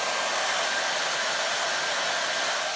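A hair dryer running during an at-home salon-style blowout makes a loud, steady, unbroken whoosh for the whole short stretch, with no talk.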